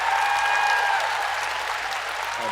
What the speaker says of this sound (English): Can we get a massive round of applause in the chat for ShaktyG, please?